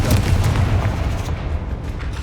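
A Confringo blasting spell in Hogwarts Legacy bursting in one loud, deep boom that rolls off into a decaying rumble, alone and close.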